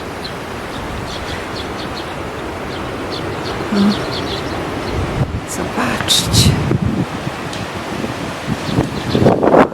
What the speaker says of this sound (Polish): Wszystkie lipy dookoła szumią.